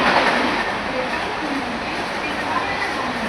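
A 15-car Mumbai suburban local train runs between CSMT and Thane, heard from inside as a loud, steady rushing rumble with no break.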